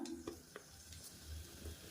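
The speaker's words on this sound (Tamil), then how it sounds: "எண்ணெய் சூடானதும் மீடியம் சைஸாக ஒரு பெரிய வெங்காயம் சேர்த்துக்கலாம்" Large onion added to two tablespoons of hot oil in a pan while making sambar, giving a quiet, steady sizzle with faint stirring scrapes throughout.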